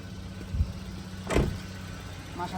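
A 2011 Toyota Yaris engine idles with a low, steady hum, broken by a brief louder mechanical clunk near the middle and a small knock at the start.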